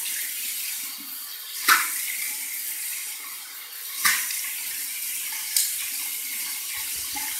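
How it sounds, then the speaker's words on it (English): A warm-water rinse runs steadily from a bathroom tap after a shave, a close continuous stream with a few sharp splashes and knocks breaking through, no voices. "let's get a nice warm water rinse from the tap"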